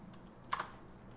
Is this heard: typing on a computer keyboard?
yes